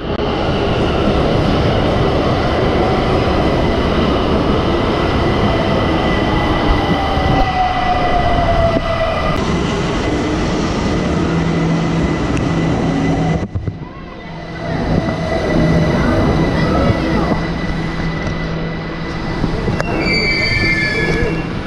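A Tehran metro train rumbles along the track with a loud, continuous roar and a long squeal of wheels on the rails, dips briefly as if passing a gap, then rolls on with more high squeals near the end.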